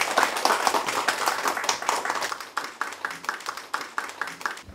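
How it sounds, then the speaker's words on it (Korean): A small audience at a charity donation ceremony claps in welcome, close and distinct individual claps in a brisk rhythm that gradually slows and thins. "큰 박수로 환영해 주십시오."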